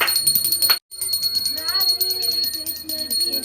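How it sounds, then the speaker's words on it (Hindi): A hand bell rung during a Hindu puja aarti at home, rapid continuous ringing with a brief gap, bright and close, with voices and chatter underneath. "हमको दे, हम घंटी बजा रहे।"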